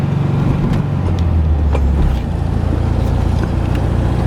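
A 1972 VW Karmann Ghia with an upgraded 1680 motor and factory exhaust with twin chrome tips drives along, a loud steady engine drone with road rumble that drops in pitch partway through, no talking.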